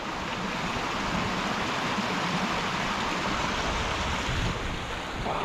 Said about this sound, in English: we end up seeing an incredible little waterfall